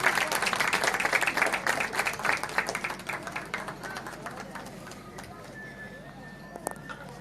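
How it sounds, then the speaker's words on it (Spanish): Crowd applause at a Chilean rodeo, a broad rhythmic clapping that is loud at first and gradually fades over several seconds, with a voice speaking over it and open-air background noise as it dies away. "Fuerte el aplauso para nuestra virreina de este rodeo."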